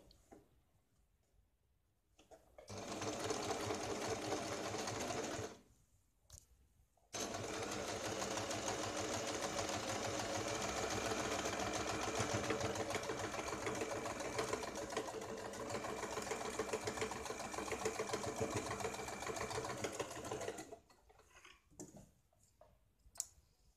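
An electric sewing machine stitches a Katori blouse, running in a short burst of rapid, rhythmic clatter, pausing briefly, then a long steady run before stopping, with faint handling clicks around the runs.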